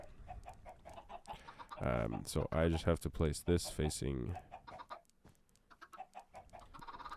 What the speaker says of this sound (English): let's just turn on the chicken farm